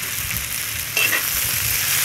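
Chilli powder being stirred into frying okra (bhindi fry), with a steady broadband sizzle and a scrape at about the one-second mark.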